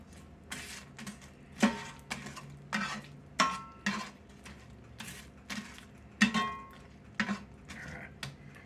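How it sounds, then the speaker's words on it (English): Chicharrones scramble frying in a pan while a utensil stirs and scrapes it, giving irregular metallic clinks and knocks over a low sizzle, close and fairly clear with little talk. "And you just scramble fry it. Put it in here and fry it around."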